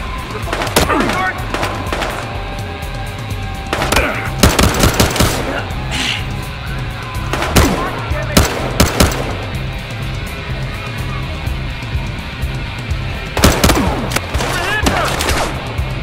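Bursts of automatic gunfire and rapid shots crack through a Battlefield Hardline shootout, loud and repeated in several clusters over a steady background rumble, with brief voices mixed in.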